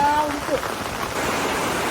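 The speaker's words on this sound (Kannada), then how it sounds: "ಜೋರು ಮಳೆ ಈಗ ನೋಡಿ ಓರೆ ಓರೆ ಮಳೆ ಅಂದ್ರೆ ಕ್ರಾಸ್ ಆಗಿ ಬರ್ತಾ ಉಂಟು ನೋಡಿ" Heavy rain slanting in on strong wind, a dense steady hiss and patter of drops that fills the whole scene at close range, with a brief voice near the start.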